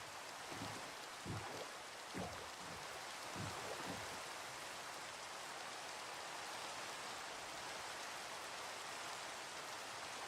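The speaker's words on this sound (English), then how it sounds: "And of course it starts raining during the day." Steady rain falls in the Minecraft modpack GregTech New Horizons, a continuous hiss of downpour filling the whole stretch with a few faint low bumps early on and no talking.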